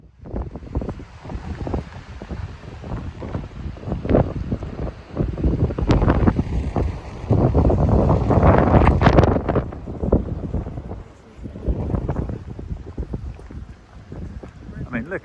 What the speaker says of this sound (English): It was quite choppy, quite windy.